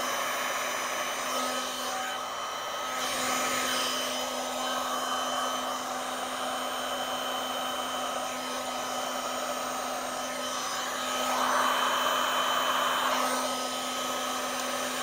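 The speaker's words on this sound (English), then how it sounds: "That's a pretty powerful hair dryer." A hair dryer blows steadily with a constant whirring hum and airy rush, close and loud, swelling slightly for a few seconds near the end.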